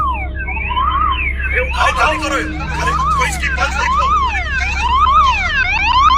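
A wailing ambulance siren sweeps up and down repeatedly over a steady low engine rumble, loud and fairly close.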